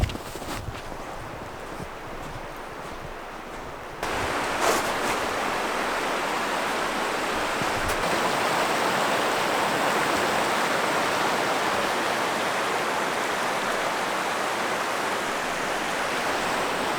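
A river runs steadily at a New Hampshire campground swimming hole in winter, a loud, continuous broadband rush that grows fuller after a few seconds and carries on without a break, with no voices.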